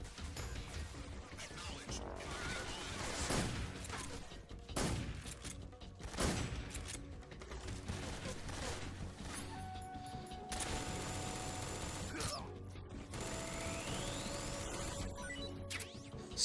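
Enemy soldiers fire from the ground in Metal Gear Solid 3, scattered bursts of gunshots and sharp cracks spread through a busy game soundscape, fairly faint and mixed with other effects and occasional talk.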